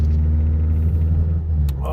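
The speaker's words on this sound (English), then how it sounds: "Sorry about my loud car" Loud car engine idling with a deep, steady low rumble throughout, heard from inside the vehicle, with a brief rise near the end.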